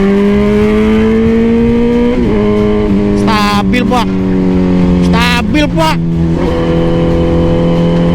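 Motorcycle riding recorded on a GoPro Hero 10, with a steady, loud engine drone and gradually shifting pitch throughout, plus bursts of wind buffeting; someone speaks briefly over the engine.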